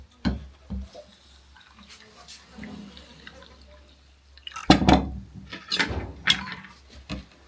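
Cold water poured into a bowl of garri, heard as close splashing and dripping bursts in the second half, with quieter handling noises before.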